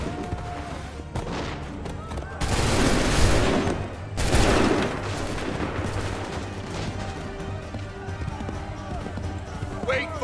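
Musket volleys in Assassin's Creed III, loud broadband bursts of massed fire with two strong blasts in the middle and scattered shots around them, under shouted commands.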